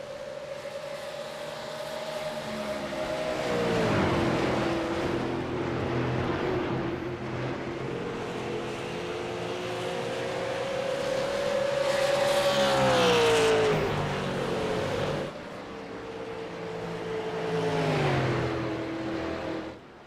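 Super late model race cars circle a track at a live event in Iowa, engines droning loud and steady with rising and falling pitch as cars pass close by, several surging pass-bys over a continuous roar.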